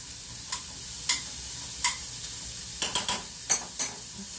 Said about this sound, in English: Let's cook those in the pan a little.